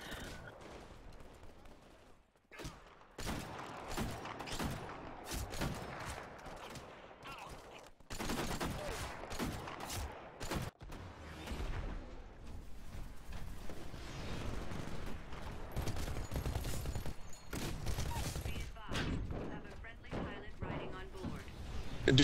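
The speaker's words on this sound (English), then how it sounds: "I missed my sniper shots." Rapid bursts of gunfire in the video game Titanfall, including DMR sniper rifle shots, crack and boom in dense volleys with explosions and thuds, loud and continuous, with players talking over the action.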